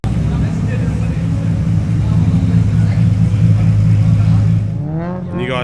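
Nissan GTR race car with a JT Performance build running 40 PSI boost, engine revving hard on a racetrack at a GTR festival, a loud sustained roar with harmonic drone that fades and sweeps away near the end.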